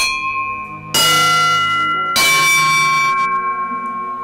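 Two cast bronze bells of different sizes struck one after another, each a bright clang with long, overlapping ringing overtones that hum and decay slowly.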